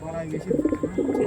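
Andhra Kalshira pigeons coo in soft, throaty bursts close by, a few rounded calls in quick succession over faint background noise.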